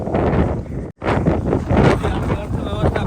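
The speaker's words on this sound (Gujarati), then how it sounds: "પવનનો અવાજ તમને કદાચ આવતો છે" Strong storm wind gusts roar across the microphone at an ashram, a broad, steady rumble with a brief dropout near the start, sounding close and loud.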